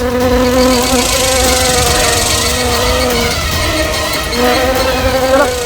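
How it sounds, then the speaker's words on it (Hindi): Houseflies buzz inside a car, a loud, close, continuous whining drone with shifting pitch that fills the whole stretch, with no voices. "भाई इतनी मक्खियाँ गाड़ी में कहाँ से आ रही है?"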